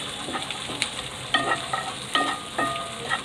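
Chopped cabbage is stirred in a frying pan, a soft background sizzle broken by several distinct scraping clatters of the spatula at irregular intervals, close and moderately quiet, with no talking.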